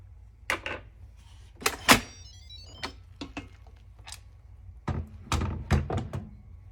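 A mini 7-in-1 electric pressure cooker lid is unlatched and lifted after cooking rice, giving a series of close plastic clicks, thunks and scrapes in irregular bursts over several seconds.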